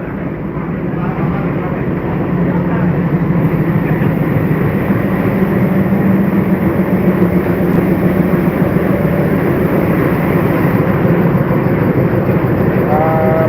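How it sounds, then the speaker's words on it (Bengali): Bangladesh Railway locomotive 6529, a gift from India, hauls the Sagardari Express toward Rajshahi past Darshana Halt station, a loud continuous diesel rumble with rolling wagons and faint clatter, a horn tone surfacing at the end, with voices faintly beneath. "পঁয়ষট্টি উনত্রিশ লোকোমোটিভ"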